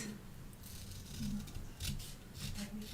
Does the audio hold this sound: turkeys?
no